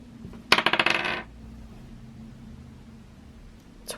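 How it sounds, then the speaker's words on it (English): Dice clatter onto a surface in one quick burst of rapid rattling hits lasting under a second, close and crisp, followed by quiet room tone. "So you roll the dice, it lands on a number"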